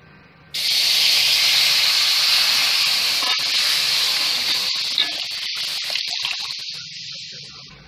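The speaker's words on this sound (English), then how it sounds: "Here I have heated a kadhai. In this I will put milk." Milk hits a heated kadhai and hisses loudly, a steady bright sizzle that starts abruptly and slowly fades, with light clatter near the end.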